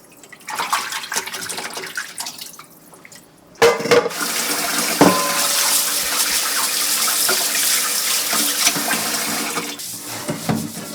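A cooking pot is washed under a running kitchen tap before pork ribs are cooked in it. Water splashes and clatters faintly at first, then a strong, steady gush pours into the pot close up.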